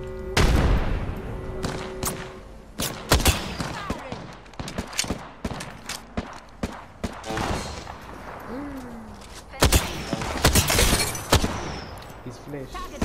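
Gunfire in the video game Apex Legends on PS4, rapid cracking shots and bursts arriving in uneven clusters, some close and loud, mixed with impacts and game effects while players talk over it.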